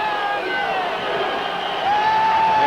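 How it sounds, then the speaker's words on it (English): A basketball crowd at the Pan Am arena cheers in a steady, loud roar of voices with whoops and whistles, swelling slightly toward the end. "And the crowd here at the Pan Am loving the defense right now"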